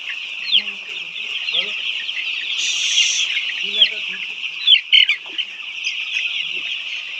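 White layer chickens cluck and call on a poultry farm, a dense flock chorus with a steady high hum underneath and a few louder squawks standing out.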